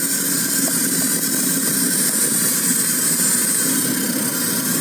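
A car engine fitted with a Funtik lean-mixture device runs at steady revs, giving a continuous loud hum with a thin, high whistle riding on top of it.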